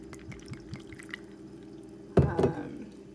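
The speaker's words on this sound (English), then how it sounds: "First, we're going to try the peach vodka and see how that tastes with just a little bit of a splash." A splash of peach vodka goes into a glass of homemade iced tea: soft drips first, then a short, louder pouring splash close by.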